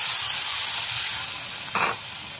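Finely chopped onion hitting hot oil in an already heated pan, giving a loud, dense hiss of sizzling and steam, with a short burst of extra crackle near the end.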